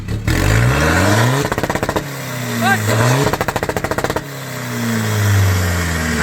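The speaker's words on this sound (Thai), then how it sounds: "ฟังเสียงเบิ้ลตัดกันยังไงครับคุณแรงเบิ้ล" A remapped Chevrolet engine revs hard and bounces off the rev limiter in rapid stuttering pulses, twice, between steady droning revs.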